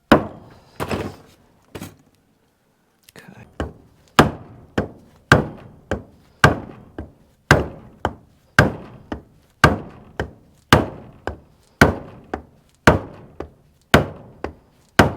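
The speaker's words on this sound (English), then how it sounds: "Not really putting a whole lot of force into the hit here, just kind of letting the weight of the hammer do it." A hammer strikes an engine part during an engine rebuild, with a few uneven hits followed by a steady run of roughly a dozen moderate, sharp knocks about a second apart. The sound is close and clear, with no talking.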